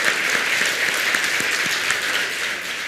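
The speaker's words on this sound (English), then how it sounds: "Give them a big round of applause." A crowd claps warmly for entrepreneurs after their presentations at a speech event in Ho Chi Minh City, a dense, even burst of applause heard throughout the moment.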